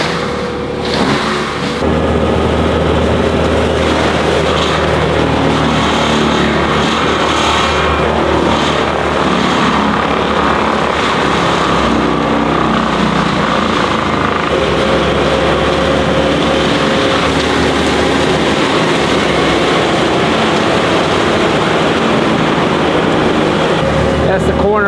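A forestry mulcher clearing overgrown brush on a property, a loud continuous engine drone and grinding roar that holds steady throughout, close and dense.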